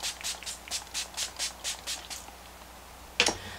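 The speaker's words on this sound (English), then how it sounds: "Let's take our setting spray." A series of short hissing sprays of makeup setting spray in a steady rhythm, about ten bursts close up, followed by a brief clattering knock near the end.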